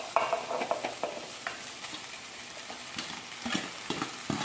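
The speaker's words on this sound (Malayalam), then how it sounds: "ചോറിങ്ങനെ ഇട്ടാൻ പോവുകയാണ്." Cooked rice is stirred into a frying pan in a home kitchen, giving quiet scraping and soft sizzling with intermittent spoon strokes against the pan, no voices.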